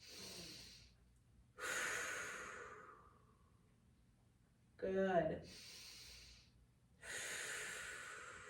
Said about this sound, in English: So we're just going to sit here and take a few breaths.